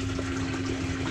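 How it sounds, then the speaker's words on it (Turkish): A caravan toilet in a truck camper flushes with a steady, close rushing of water and a constant pump hum, with no voices. "Sonra sifon."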